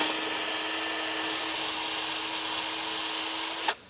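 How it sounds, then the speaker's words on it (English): A power drill whines steadily as it bores out a broken metal stud on a Mitsubishi Eclipse GSX engine, running continuously for several seconds before abruptly stopping. "right now I'm clearing out the rest of the stud that did not wanna go"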